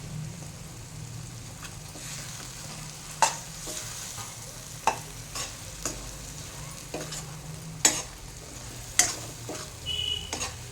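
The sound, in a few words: bitter gourd frying and stirring in masala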